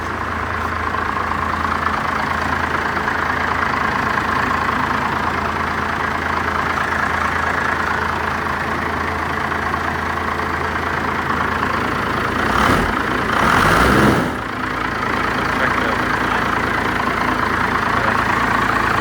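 A 1st Gen Cummins diesel truck engine idles low and steady, a close, continuous rumble with a brief louder surge partway through.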